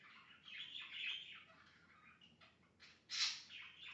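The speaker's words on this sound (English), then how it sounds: "my birds are present in the background and making lots of chattery noise" Pet birds chatter and chirp indoors in quick, bright bursts with a louder squawky call near the end, fairly faint and close, without any talk over them.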